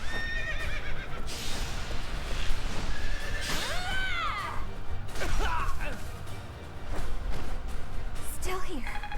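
A horse neighs and whinnies several times with swooping, wavering calls, over background noise and occasional thuds, with a voice speaking at times, in the video game Fire Emblem: Three Houses.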